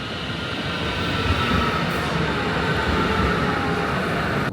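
A passenger train in Germany runs along, heard from inside the carriage as a loud, steady rumble and roar of wheels on track with faint rattling, no voices.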